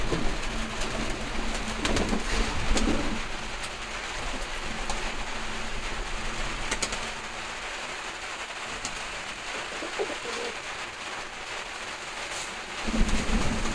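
Tame pigeons cooing and shifting about at home, a steady low murmur of coos and soft rustling that fills the whole stretch, with a busier swell at the start and again near the end.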